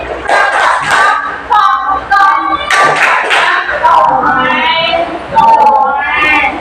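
A group of people performs the 'tepuk jam dinding' clap routine in a classroom coaching session, rhythmic bursts of hand claps mixed with chanting voices, loud and close.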